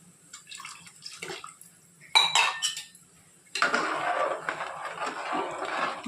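Water pours and splashes into a metal cooking pot for chicken bagara rice, with clinks of cutlery and pans around it. It comes in close, loud bursts with short pauses between them.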